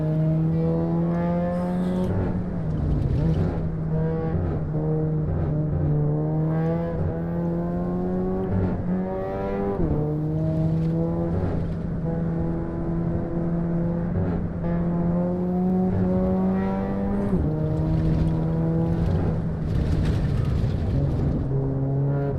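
Race car engine in Assetto Corsa, revving and accelerating through repeated gear changes, its pitch climbing and dropping in steady cycles, loud and continuous with no talking.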